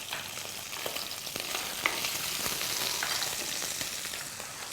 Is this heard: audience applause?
no